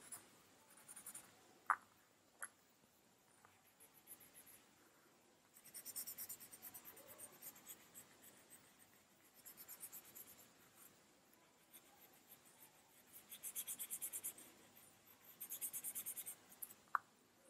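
Pencil scratching on paper while filling in a Zentangle pattern, coming in close repeated strokes with a few sharper taps and short pauses, quiet and near with no talking.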